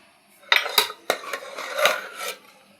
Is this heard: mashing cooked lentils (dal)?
yes